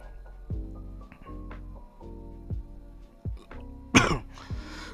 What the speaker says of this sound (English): Sorry guys, I had to cough.